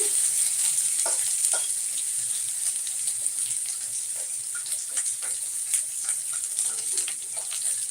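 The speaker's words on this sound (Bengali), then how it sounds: "দেখো বড়িগুলো আমি তেলে উলট করে নিচ্ছি" Lentil dumplings (bori) frying in very hot oil while being turned over, a constant bright close sizzle with scattered stirring clicks and taps throughout, no voices.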